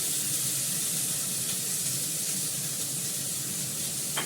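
Spring onion and potatoes frying in hot oil with nigella seeds and green chillies, giving a loud, even hiss of sizzling that holds steady throughout with no talk.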